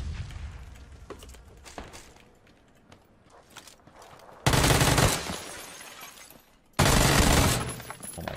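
Shotgun blasts ring out in the battle royale game PUBG, two loud, close roaring bursts well apart, following a stretch of quieter scattered clicks and footsteps.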